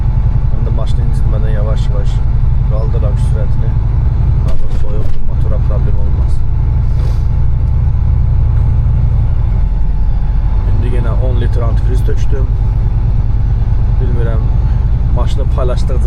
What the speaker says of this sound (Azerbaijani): Mən də maşını incitmədən yavaş-yavaş qaldıram sürətini.